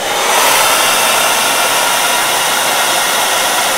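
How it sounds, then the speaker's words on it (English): A hair dryer on medium heat blows continuously at close range over a wig, a loud, even rushing whoosh with no pauses. "use my blow dryer on a medium heat"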